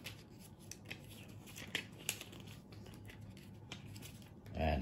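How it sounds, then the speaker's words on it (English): Paper notes being flipped through make quiet, brief rustles and crisp snaps, with a couple of sharper flicks in the middle and a soft shuffle at the end. "Sorry, I'm flipping through the notes here."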